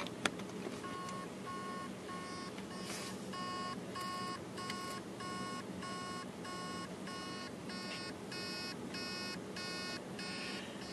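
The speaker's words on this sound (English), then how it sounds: "you can hear the beeping noise. That's basically the motor is trying to start the platters and it can't" A faint electronic beeping from a hard drive whose motor cannot spin the platters, heads stuck on the platter, repeats in a steady, regular rhythm, short evenly spaced tones over a low mechanical hum, continuing throughout.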